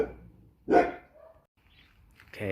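A dog gives a single loud bark near the start, followed by quieter low vocal sounds and another burst at the end, with no talking.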